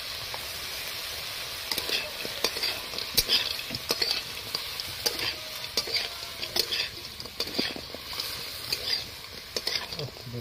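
Crab and turmeric fry in hot oil, a quiet, steady sizzle broken by repeated scraping clicks as a utensil stirs the pan at an irregular rhythm.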